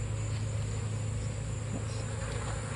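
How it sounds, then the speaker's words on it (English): A steady, dense honeybee drone hums continuously at a beehive, a low sustained buzz with no pauses, like a mass of bees close by. "Obviously they're bees."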